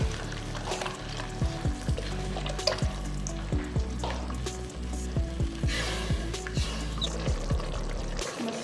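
Mutton paye masala with yogurt sautéing in a pot, a continuous sizzle with rhythmic spatula scrapes and taps recurring about twice a second, nearby and without speech.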